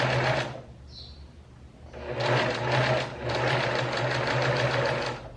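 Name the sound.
sewing machine stitching close to the edge of a blouse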